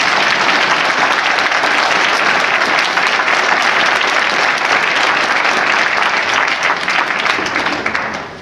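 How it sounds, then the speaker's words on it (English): Loud, sustained applause from an audience at a Martin Luther King Jr. holiday memorial observance in Albany, honoring a multilingual chorus and percussion group; dense steady clapping fills the whole stretch, easing slightly at the very end. "Let's give another round of applause."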